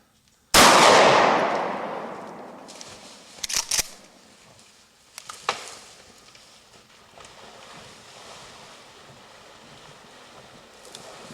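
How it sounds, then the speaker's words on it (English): A rifle shot during a whitetail deer hunt at a hunting lodge, one sudden loud blast that rings out and decays slowly outdoors, followed by softer bangs and rustling handling noise. "Dean wasn't even sure if Don got the shots on video"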